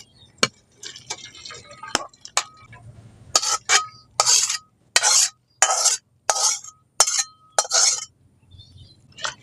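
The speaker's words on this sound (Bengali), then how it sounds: "এর মধ্যে আমি কচুর ডাঁটাগুলোকে দিয়ে ছেঁকে নিচ্ছি" Boiled taro stems being pressed in a perforated metal ladle, giving a close, rhythmic run of about a dozen sharp clinks and scraping bursts separated by short pauses.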